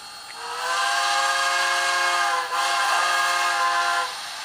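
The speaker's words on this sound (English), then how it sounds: "I also have the forward, reverse, and stop whistle commands enabled" A long, steady model train steam whistle from a PRR M1 locomotive blows for about four seconds with a hissy edge, briefly dipping midway before sounding again and cutting off.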